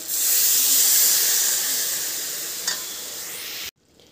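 Water is poured into a pan of jackfruit frying with spices, producing a loud, steady sizzle and hiss that fades slowly before cutting off abruptly.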